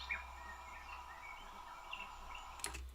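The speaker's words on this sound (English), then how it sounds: "So this is how birds sound." Soft birdsong played as an alarm sound effect, with thin chirps and trills scattered over a steady low hum, fairly quiet throughout and ending in a short brighter burst of calls.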